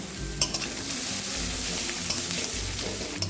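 Whole garam masala and a dried red chili frying in hot oil for crab curry, a continuous crackling sizzle with occasional clinks of a spoon against the pan, close and steady, no speech.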